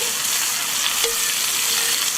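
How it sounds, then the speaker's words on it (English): Veal cheeks sear in a Dutch oven with a loud, steady close-up sizzle and crackle of hot fat, with no voices over it. "So really give them a sear from all sides."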